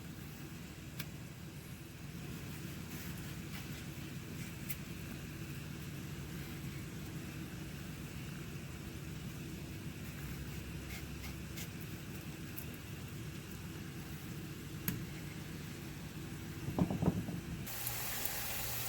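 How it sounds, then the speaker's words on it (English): Sliced plantain fries in a skillet, giving a steady, even sizzle and hiss that runs unbroken throughout with no talking, and a few faint clicks near the end. "Now my plantain is in the skillet. I'm just gonna fry it until it's golden brown"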